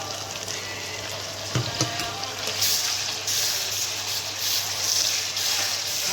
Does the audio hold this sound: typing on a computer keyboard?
no